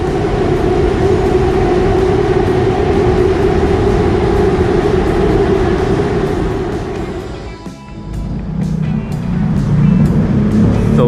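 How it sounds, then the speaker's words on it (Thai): A loud, steady rumble of two elevated skytrains passing each other at Ratchaprasong intersection in Bangkok, with a brief dip partway through before the roar resumes, no voices. "ตอนนี้รถไฟฟ้า สวนทางกันพอดี"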